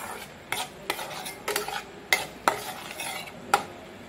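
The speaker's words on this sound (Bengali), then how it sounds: "তো এটাকে ভালো করে নাড়িয়ে নেব" A spoon scrapes and taps against a pan while a spice paste of ground onion and cumin powder cooks, giving sharp, evenly spaced clinks over a faint low sizzle.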